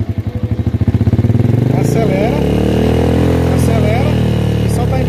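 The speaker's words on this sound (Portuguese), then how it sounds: "acelera e solta a embreagem devagarzinho," Motorcycle engine pulsing at idle, then revving up and pulling away as the clutch is let out slowly, the throbbing smoothing into a steady rising drone up close while someone talks over it.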